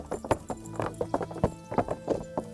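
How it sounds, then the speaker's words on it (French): Rapid rhythmic hoofbeats of a horse in the video game Kingdom Come: Deliverance clatter in a steady galloping pattern, close and clear, with a faint tonal background. "On a enfin un cheval."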